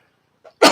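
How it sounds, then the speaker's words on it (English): A single close, loud cough from a person recovering from a cold, preceded by a brief faint throat sound, in an otherwise silent room. "you might be hearing me clearing my throat and possibly coughing a little bit"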